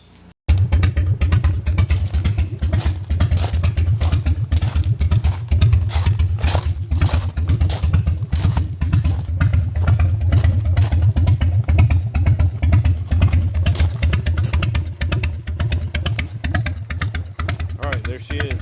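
A Harley-Davidson motorcycle engine runs close by after a brief quiet start, a loud, steady, rumbling throb with rapid rhythmic pulses that continues unbroken.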